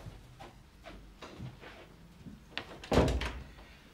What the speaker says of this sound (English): And shut the door.